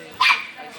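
A puppy at a dog sterilization campaign in La Paz gives a single short, sharp yip that fades quickly, heard close and alone.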